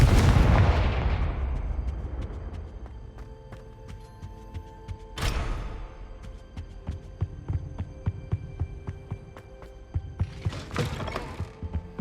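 Spell explosions from the Confringo fire spell in the video game Hogwarts Legacy: a loud booming blast at the start that decays over several seconds, then a sharp burst mid-clip and a denser crackling burst near the end over a low rumbling background.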